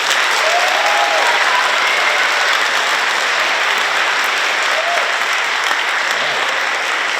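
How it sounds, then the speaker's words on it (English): Loud, sustained applause from an audience at a speaking contest, steady dense clapping for the contestants that holds evenly throughout with no pauses. "let's have one round of applause for all of our contestants"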